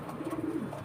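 A champion racing pigeon gives a short, soft, close coo, a low throaty warble lasting under a second.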